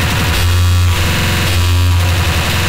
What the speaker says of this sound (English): This is what Extratone sounds like.